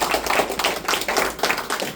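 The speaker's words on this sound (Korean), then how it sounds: "큰 박수 부탁드리겠습니다." Audience clapping at a union election campaign rally, a steady burst of many hands applauding together, close and fairly loud, with no talk over it.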